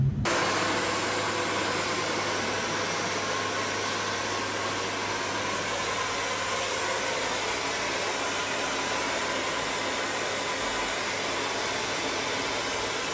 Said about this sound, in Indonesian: pakai hair dryer